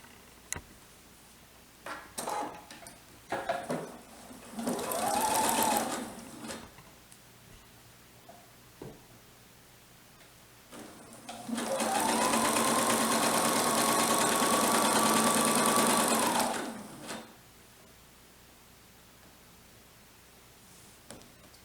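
Sewing machine stitching a quilt seam with a quarter-inch allowance, a few short stop-start bursts of motor whir, then one longer steady run of about five seconds, close and fairly loud.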